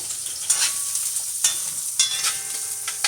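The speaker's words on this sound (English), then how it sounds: "onions and peppers, red peppers. We're gonna do saute." Onions and red peppers sauté in a pan with a bright, crackling sizzle. A spatula stirs and scrapes at regular intervals, and no voices are present.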